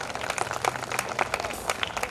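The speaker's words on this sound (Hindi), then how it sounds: "जोरदार तालियां, जोरदार तालियां।" Applause from an audience at a United Ex-Servicemen Welfare Association stage program, a steady patter of many clapping hands carrying on throughout, fairly close, with scattered sharper claps standing out.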